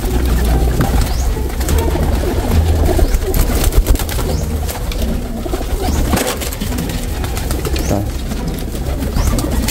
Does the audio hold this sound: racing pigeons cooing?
yes